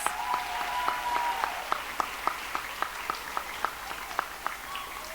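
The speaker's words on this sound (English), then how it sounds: "Give us a round of applause" A graduation crowd at Rosewood Magnet's 2025 fifth-grade ceremony applauds the robotics team with steady, evenly spaced claps that sound sparse and moderately distant, continuing for about five seconds over a faint hum.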